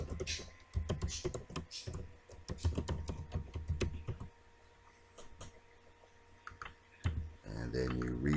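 Rapid, close clicking of a computer keyboard as a business email address is typed, bursts of keystrokes with a pause midway, then a final flurry and a spoken voice at the end.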